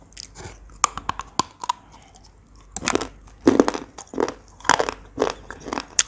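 Crunchy fresh food chewed close up, a series of crisp bites and crunches in irregular bursts with short pauses between them.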